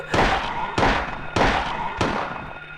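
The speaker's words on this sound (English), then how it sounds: "Loud ass gunshots." Four loud gunshots in the PS1 game Silent Hill, spaced roughly evenly about half a second apart, each a sharp close blast with a short decaying tail.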